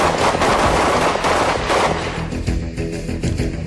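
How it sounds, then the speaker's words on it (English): SWAT team AR-15 submachine guns fire fully automatic in dense, overlapping bursts, a loud, sustained rattle of rapid shots with booming echoes, close and without pause. "all have submachine guns like the AR-15 that can fire fully automatic or semi-automatic rounds"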